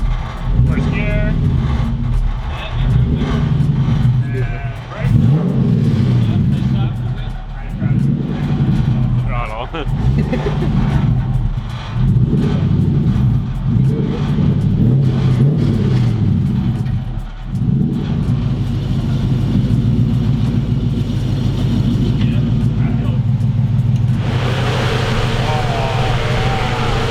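A supercharged Toyota 1UZ V8 in a drift truck idles and revs, a loud, rough, throbbing engine roar with repeated surges and dips, and people talk over it throughout.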